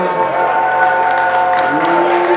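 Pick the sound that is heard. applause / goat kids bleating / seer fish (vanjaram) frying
applause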